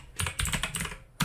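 Typing on a computer keyboard: a quick run of close, crisp key clicks in uneven bursts, with a louder stroke at the end, no voices.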